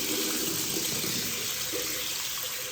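Shower water running steadily at full pressure in a hotel bathroom, a continuous loud hiss and splatter with no break.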